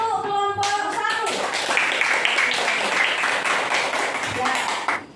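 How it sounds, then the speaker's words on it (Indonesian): A classroom of students claps for the first group, steady dense applause lasting about four seconds after a short spoken greeting, close and loud, then tapering off. "beri aplaus untuk kelompok 1"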